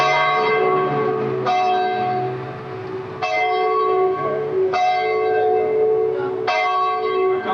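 A restored town bell rings loudly and close during a Veterans Day celebration, with five strikes spaced roughly a second and a half apart. Each rich metallic tone hangs and overlaps the next.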